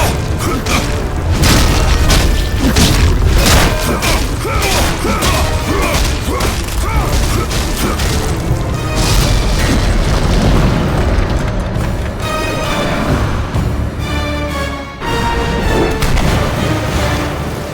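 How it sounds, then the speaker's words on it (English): Combat in the video game God of War 3, with dense booming impacts, crashes and bursts layered over a loud continuous din, music kept low beneath the fighting. "the music was purposely lowered so you can hear the sounds of your combat"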